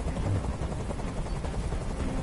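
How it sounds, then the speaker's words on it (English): A helicopter in the video game Detroit: Become Human thrums with a steady, loud rotor wash that fills the short stretch without pause, no voices over it. "Tell that helicopter to get out of here!"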